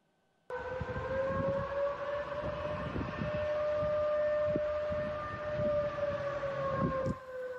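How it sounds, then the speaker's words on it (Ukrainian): An air raid siren in Belgorod starts abruptly and holds a loud, steady, slightly wavering wail with strong harmonic tones for several seconds before cutting off. "Завивання сирени повітряної тривоги"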